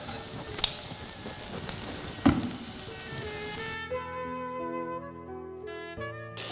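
Fish sizzles steadily in a hot pan with turmeric, a bright crackling fry broken by a couple of louder pops and stirs before the background changes.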